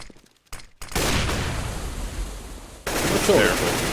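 Negev machine gun firing in the video game CS:GO, sustained dense bursts of automatic fire that fill most of the clip, loud and close, with a voice talking over it.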